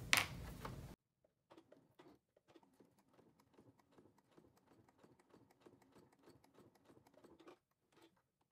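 A sewing machine top-stitching fabric at an eighth-inch seam allowance runs in a fast, faint, quiet patter of needle strokes after a brief louder noise, then stops, with one last short burst.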